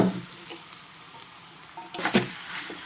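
Grated pumpkin and sweet potato sizzle softly in a pan for a halwa, with a low steady fry and a few brief clinks and scrapes of stirring near the end.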